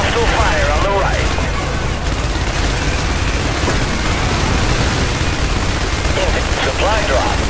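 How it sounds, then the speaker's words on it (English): Gunfire from the video game Is Defense rattles continuously through a dense, loud battle din of rumbling explosions and noise, with radio-style voices talking over it. "Hostile fire on the right."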